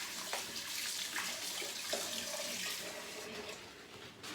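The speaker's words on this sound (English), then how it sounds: "Wash my hands." Water runs from a kitchen tap in a faint, steady splashing stream while hands are washed beneath it, with a few small knocks and clatters mixed in.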